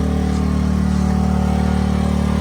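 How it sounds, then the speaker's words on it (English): A gas-powered generator running nearby in winter, a loud steady engine drone with a constant low hum and no variation. "Gas, generator."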